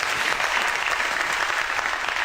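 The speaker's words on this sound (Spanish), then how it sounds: "eso merece un aplauso." A church congregation breaks into applause during a Spanish-language sermon, dense clapping filling the room evenly and continuously, with a faint murmur of voices underneath.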